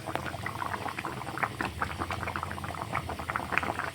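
Katla fish curry with whole spices simmering in a pan, a steady close bubbling and popping with irregular small bursts, no voices.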